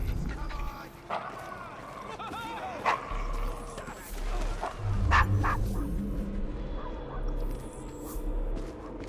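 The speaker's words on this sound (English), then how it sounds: "Is your dog quite all right?" A dog in the video game Assassin's Creed Syndicate yips, barks and whimpers repeatedly at close range beneath ongoing character dialogue and street ambience.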